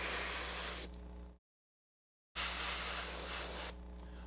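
Spray can priming a miniature model for a BattleTech-style tabletop game: two long steady hissing bursts, close and loud, separated by about a second of silence, with no voices.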